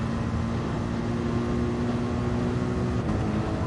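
Steady engine drone from a race car in a Nurburgring racing video game, held at a constant loud level for several seconds as revs build in third gear after a downshift, with no voices.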